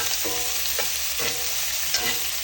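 Sliced onion frying lightly in a pan for steak bites, a loud continuous sizzle with a few scraping stirs at regular intervals, no voices.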